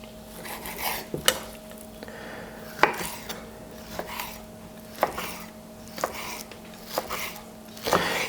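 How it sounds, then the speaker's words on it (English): A knife cuts raw tuna into cubes on a board, with a run of regular, sharp chopping taps and light scrapes, close and clear with no talk. "we're just going to cut them into cubes. So just run the knife through it."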